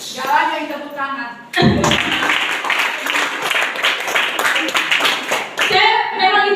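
Audience applause and hand clapping at a manager promotion event, a dense burst of claps lasting several seconds and framed by speech before and after.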